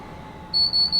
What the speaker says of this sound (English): I'm glad the alarm goes off when you're on the outside.